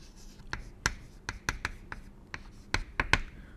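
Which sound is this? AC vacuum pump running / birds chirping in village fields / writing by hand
writing by hand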